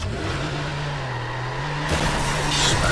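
A car engine in the Watch Dogs video game hums steadily, then revs up sharply as the car accelerates, loud and close with no talk.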